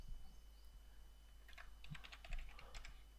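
Quiet keystrokes on a computer keyboard, a short irregular run of clicks near the mic against low background hum, with no talking.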